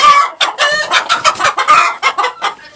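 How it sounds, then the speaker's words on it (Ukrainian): Chickens cluck loudly and close in a farmyard, a rapid run of short squawking calls with a few longer crowing notes, alone without talk. "О, о, диви, курка, курка."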